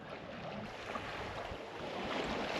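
A sailboat under sail in light wind, heading toward the Marlborough Sounds, with a steady wash of water and wind noise across the microphone, fairly even and continuous throughout.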